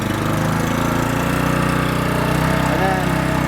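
Petrol engine of a Kipor KGFC500 tracked dumper running steadily at close range, a loud, continuous chugging drone that builds slightly as it revs, with no speech over it.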